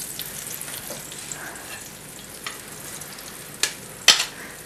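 Oil and butter frying in a pot, a steady close sizzle with a few sharp crackles and clanks near the end.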